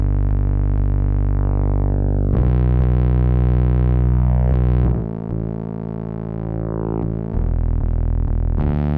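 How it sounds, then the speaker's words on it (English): Simple bass line built with the Scorch synth for a beat, sustained heavy distorted low notes that shift pitch a few times and sit loud and alone. "First, I used Scorch to lay down this simple bass line."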